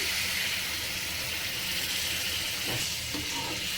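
Water poured into a pot of lentils that have been fried in spices, giving a steady, close, hissing pour and sizzle that lasts throughout.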